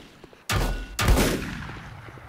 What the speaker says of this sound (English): that's the turret shooting